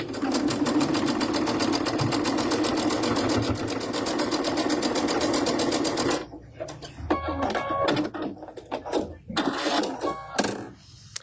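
Sewing machine stitching a quilt seam on its quilting setting: a loud, fast, steady mechanical rattle for about six seconds, then stopping, followed by scattered clicks and handling sounds.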